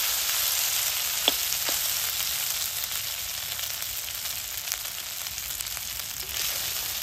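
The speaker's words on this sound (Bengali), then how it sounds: "দেখেন কি সুন্দর ভাজা ভাজা হইতেছে।" Water hyacinth stalks frying in plenty of oil, a steady close sizzle and crackle with a few light stirring knocks, alone with no talk.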